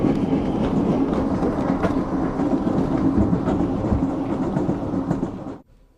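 A train rolls along the tracks with a loud, continuous rumble and faint rhythmic clatter, steady throughout, then cuts off abruptly near the end.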